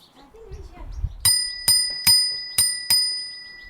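A bicycle bell rings five times in a steady, evenly spaced series, each bright ding decaying briefly, after some soft voices at the start.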